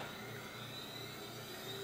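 A CNC router running a cutting program, a faint steady machine whine and hum with a low pulsing drone underneath, no voices.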